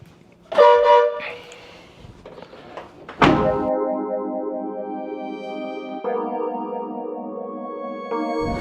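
A Horn Blasters electric compact air horn on a Japanese mini truck blares in long, loud, brassy blasts that shift pitch, after some brief clunks and handling noise.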